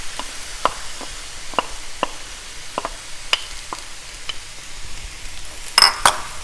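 Soaked mung dal is stirred into a cabbage stir fry in a pan: sparse, irregular spoon taps and scrapes over a faint sizzle, close and fairly quiet.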